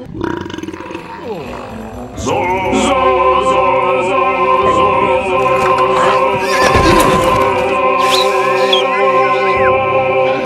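A drunken horse in the Zorro film lets out a loud, prolonged whinny with a belching, roaring quality that sustains strongly, preceded by a brief lower-pitched grunt or vocal sound.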